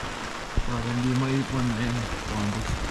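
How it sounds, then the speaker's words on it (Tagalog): Rain falls steadily in Jasper National Park, a dense, constant hiss beneath someone talking. "Lakas ng ulan mga ka-Jedi"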